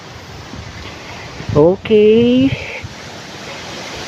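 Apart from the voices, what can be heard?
strong wind outdoors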